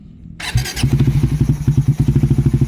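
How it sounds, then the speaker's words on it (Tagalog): After a brief electrical click, a motorcycle fitted with an NK ECU and a Powerpipe exhaust cranks and fires, settling straight into a loud, close, lumpy idle with a steady throbbing rhythm. "so on na natin yung ignition."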